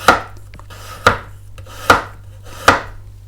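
Knife thinly slicing fresh turmeric root on a cutting board: four sharp, close chopping strikes spaced under a second apart, with a low steady hum underneath and no talking.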